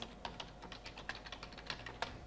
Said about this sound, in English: You just need to type your subject area.